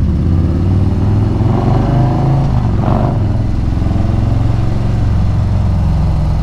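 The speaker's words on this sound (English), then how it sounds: "when I say this bike sound good" A Harley-Davidson motorcycle fitted with a Trask Power Plate idles and revs loudly up close, a deep, steady, throbbing engine note with a brief swell of throttle midway, with no talking over it.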